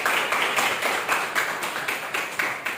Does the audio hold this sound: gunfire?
no